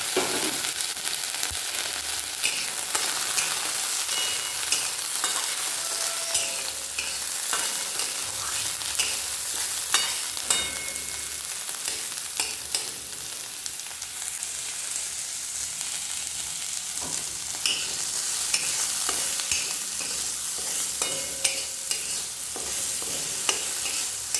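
Peas and capsicum frying in a pan, a continuous loud sizzle with scraping stir clicks scattered throughout, steady and close with no talking.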